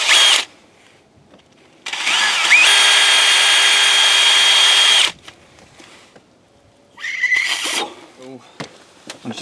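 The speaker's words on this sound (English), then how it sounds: "After you drill it out, you want to make sure it's free flowing both directions" Power drill whirring in loud bursts while clearing a frozen washer fluid line on a 2015-or-later Ford F-150, with a short burst, a long sustained run and a later rougher stretch, separated by quieter pauses.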